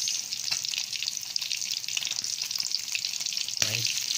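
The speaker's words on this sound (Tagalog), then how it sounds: "Fried bangus, alumahan, sa dalagang bukid. Tatlong klaseng isda." Bangus, alumahan and dalagang bukid fish frying in hot oil, a steady dense sizzle and crackle running throughout with a brief stir or clatter near the end, no voices.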